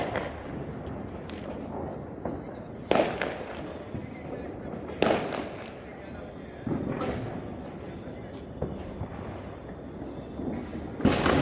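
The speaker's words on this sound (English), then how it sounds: "It's all Diwali around with a lot of fireworks." Diwali fireworks and firecrackers bursting around a neighbourhood in Panchkula, with repeated sharp loud bangs and crackles at irregular intervals over a constant background rumble.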